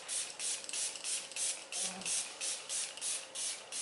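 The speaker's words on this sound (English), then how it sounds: "Today we are going to do this setting spray on my face." Setting spray misted onto a face, about ten quick, soft hissing pumps in a steady rhythm, close but fairly quiet, with no talking.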